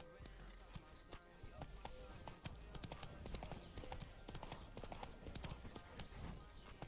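Hooves of Roach, the horse in The Witcher, clip-clopping in a steady walking rhythm, faint and close with soft ambient sound beneath, alongside some speech.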